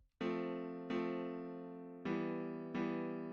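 Four sustained synthesized chords, a chord progression made in FL Studio, play in sequence, each struck cleanly and left to ring and fade before the next, with no voices.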